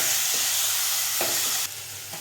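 Dal is stirred into fenugreek leaves fried in oil, a loud continuous sizzle punctuated by a few scraping strokes of a spoon, the hiss easing slightly near the end.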